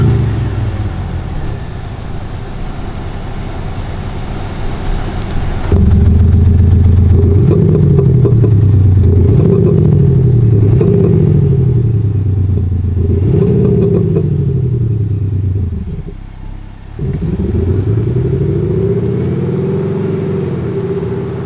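A Volvo XC90 gasoline SUV with a Cete active sound generator module, set to full volume with simulated backfires in Dynamic mode. It revs loudly and close by in a series of rising surges, then dips briefly and settles into a rumbling idle.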